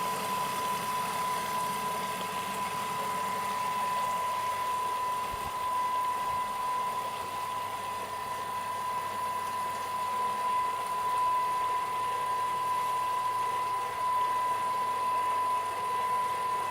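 A kitchen mixer mixing pie ingredients gives off a steady, even motor drone with a constant whine, running for a long stretch without pause.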